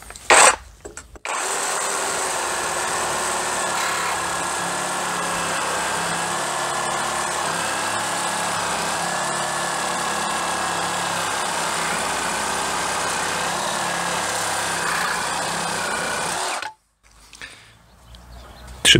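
Einhell TE-AP 18/28 LI BL brushless cordless reciprocating saw cutting a square timber beam with three nails driven into it, using a blade made for that job. The motor whines loudly and steadily for about fifteen seconds, then cuts off abruptly.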